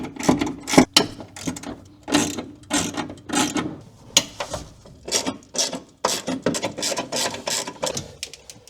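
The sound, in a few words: ratchet removing bolts holding car airbag module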